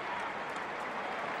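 A football stadium crowd applauds a substituted player, a steady, even wash of distant clapping and murmur, fairly faint, with no clear individual claps.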